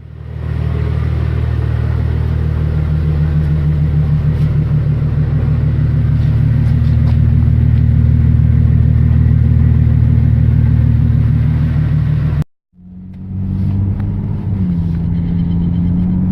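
A Ford Falcon ED turbo engine runs loud and close, holding a steady deep idle rumble before cutting briefly, then settling back and climbing slightly in pitch as it revs.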